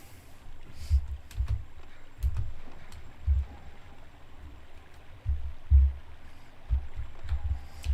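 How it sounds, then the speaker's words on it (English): Constant running water ambience in the Star Wars: Dark Forces video game, a low, rumbling rush that swells in repeated surges with faint clicks above, steady throughout with no voices. "I also want to get to a level where you don't have this constant water running background sound."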